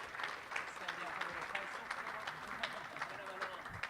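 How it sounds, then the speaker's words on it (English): Crowd applause at the 2025 Absa Cape Epic mountain bike race preview show, a steady, dense patter of many hands clapping throughout, moderately distant and even in level. "let's give them a big round of applause"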